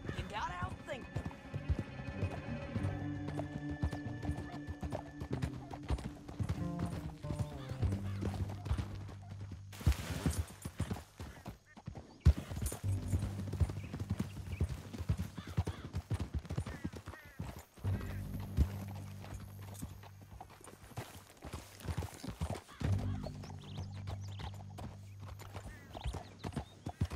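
Hooves clip-clop steadily while a horse whinnies in the video game Red Dead Redemption 2, with music, voices and bursts of gunfire mixed in throughout.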